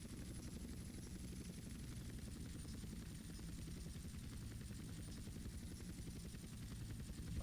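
A helicopter's rotor in the video game GTA whirs steadily and evenly throughout, with a constant high whine riding above the chopping drone.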